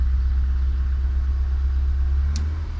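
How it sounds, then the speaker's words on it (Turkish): A Fiat Uno 70 with air conditioning idles on LPG, a steady, smooth low engine rumble held close and loud throughout, with no talk. "Gördüğünüz gibi arkadaşlar rolantisi gayet düzgün."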